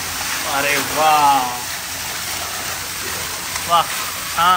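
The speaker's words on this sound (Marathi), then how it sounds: "छान धबधबा त्यांनी बनवला आहे" An artificial waterfall at an adventure park in Hadshi, Mulshi, gives a steady broadband rush of falling water that runs through the whole stretch, with someone talking over it in bursts.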